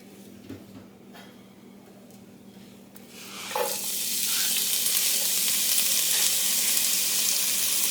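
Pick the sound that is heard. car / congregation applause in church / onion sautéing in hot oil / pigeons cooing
onion sautéing in hot oil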